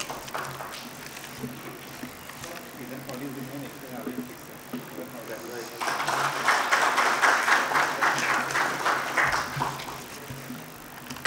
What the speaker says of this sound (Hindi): जोरदार ताली से अभिनंदन करो।